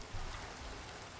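Steady rain falling in the Exigence 2 video game, a dense continuous hiss with no voices over it.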